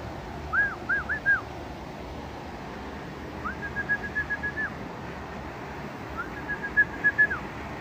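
Birds at a bird market give clear whistled calls in three separate bursts, each a short series of rising and level notes, moderately near over a steady background murmur.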